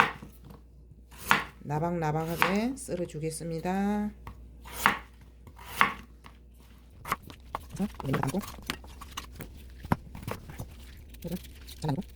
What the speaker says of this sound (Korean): 이거를 무를 좀 얇게 썰어줄게요